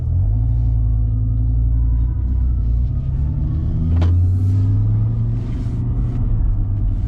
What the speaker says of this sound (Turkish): Arabamızı çalıştıralım.